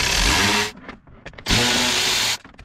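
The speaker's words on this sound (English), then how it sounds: "there's a screw right here, which we will have to remove" Power tool driving screws out of a BMW X5 center console, two loud buzzing bursts separated by a brief pause with small clicks and handling noises, close up and with no talk.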